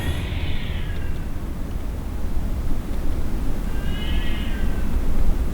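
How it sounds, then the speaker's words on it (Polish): Two faint cat meows sound a few seconds apart over a low, steady background rumble, heard from inside a cheap tent during a storm. "Ale to ewidentnie kot."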